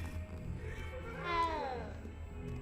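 A cat in the video game Hogwarts Legacy gives a single drawn-out meow that rises and then falls, clear against a quiet background hum.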